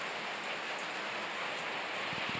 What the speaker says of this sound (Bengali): এখন আবার বেশি বৃষ্টি পড়ছে